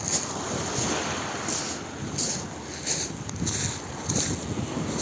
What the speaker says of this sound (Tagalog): Yun guys, oh, malakas yung alon.